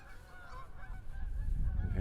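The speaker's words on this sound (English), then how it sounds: "here comes a gaggle of Canada geese flying through" A flock of Canada geese honks repeatedly overhead in flight on eastern Long Island, New York, nasal calls overlapping, while wind noise swells in the background.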